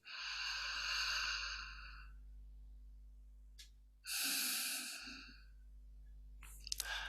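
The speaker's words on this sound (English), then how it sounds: "deep breath in, deep breath in" Slow, deep breaths drawn in during a mindful snap-breathing exercise, two long airy inhalations close and clear over a steady low hum, separated by a pause, with no speech.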